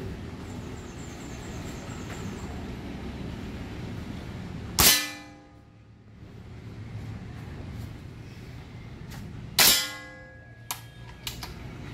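Two loud, sharp gunshots ring out roughly five seconds apart during shooting club training, each a sudden crack that decays quickly, with quieter clicks and outdoor background noise between them.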